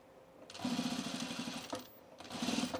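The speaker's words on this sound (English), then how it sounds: "I'm just going to stitch it right in their stitching." A sewing machine stitching a baby bag runs in two close bursts of rapid, even mechanical whirring and needle clatter, with a short pause between them and a light click as the run stops.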